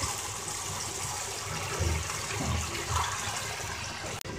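Water pours into a pan of simmering small-fish curry with a continuous, moderate splashing gush, followed by a faint clink near the end.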